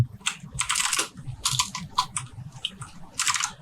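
A website name is typed on a computer keyboard in quick, close bursts of clicking keystrokes separated by short pauses, with no talking.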